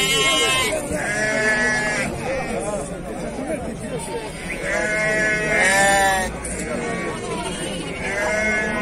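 Lambs bleat loudly and repeatedly at a busy sheep market in Füzuli, overlapping calls rising over a background of crowd chatter and nearby talking voices.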